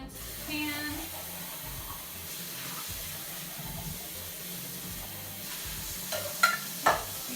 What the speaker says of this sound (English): You can also use your sprayer to rinse them off too.